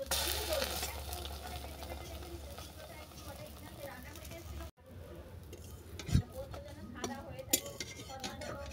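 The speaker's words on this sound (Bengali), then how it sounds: "টোস্ট এক পিঠ ভাজা হয়ে যাওয়ার পর অপর পিঠটাকে আমি উল্টে দিচ্ছি" Bread toast dipped in batter fries in butter, making a steady close sizzle; it cuts out abruptly, then a utensil scrapes and clinks as the slice is flipped and the frying resumes.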